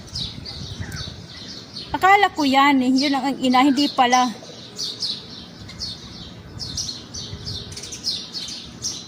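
Wild birds singing in rural fields, with repeated high chirps and tweets scattered throughout and a louder, warbling call midway, while a person talks nearby.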